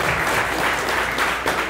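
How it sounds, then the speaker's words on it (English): A room full of people claps steadily, a dense burst of applause that continues throughout without voices. "let's give all our new colleagues a nice round of applause"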